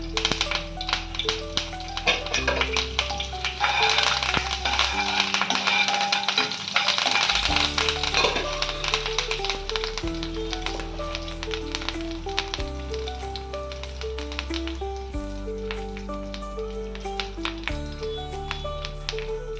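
Okra (bhindi) shallow-frying in a pan gives a steady sizzle that sits beneath loud, continuous background music.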